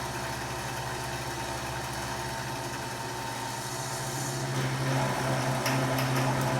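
An antique Gilbarco 80 gas pump runs with a steady low motor hum and a faint buzzing vibration, growing slightly louder and busier near the end as it begins pumping.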